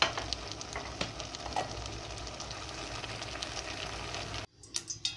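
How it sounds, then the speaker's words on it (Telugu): Broad beans fry in oil in a home kitchen with a steady, close crackling sizzle that breaks off abruptly near the end, followed by a few light clinks. "చూడండి, చిక్కుడుకాయలు వేయించుకుందాము."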